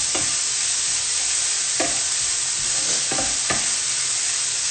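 Onions sweat in a hot pan, giving a steady, dense sizzle with a few stirring scrapes over it, close and fairly loud, with no voices.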